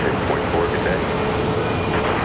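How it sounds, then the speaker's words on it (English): Briefly, an Airbus A350-1000 airliner at Charlotte Douglas International Airport produces a loud, dense engine roar that holds steady. "That A350 1000."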